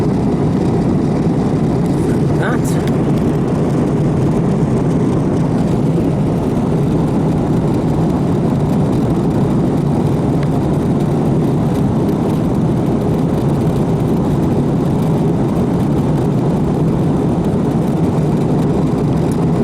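Steady, loud cabin drone of an airliner descending towards Heathrow in southwest London, a continuous low engine and airflow rumble with no breaks.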